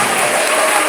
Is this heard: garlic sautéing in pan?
no